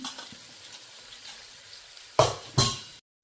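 Onions sautéing in a pan for prawn biryani, a faint steady sizzle that ends in two short, louder bursts of stirring or pan scraping before a brief silence.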